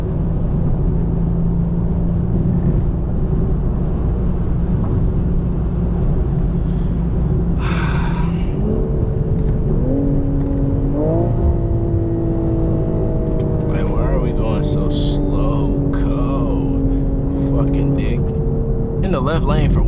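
A 2025 BMW M340i drives with a loud, constant engine drone from inside the cabin, its pitch climbing in steps as it accelerates through gears, while a person talks over it.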